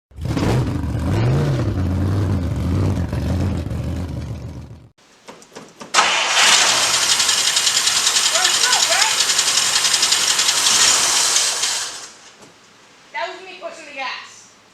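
A car engine with a faulty carburetor cranks and fires, then revs hard and loudly for several seconds before cutting out; voices talk nearby before and after the revving.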